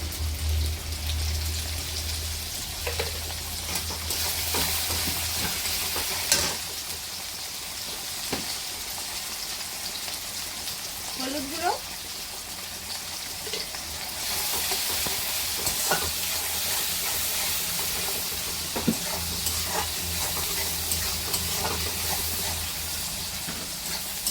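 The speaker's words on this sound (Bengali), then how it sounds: "পেঁয়াজ আর টমেটোগুলো আর একটু ভাজা ভাজা হয়ে গেলে" Chopped onions and tomatoes fry in a pan with salt, making a continuous hissing sizzle that holds steady at close range, with a few light knocks of stirring.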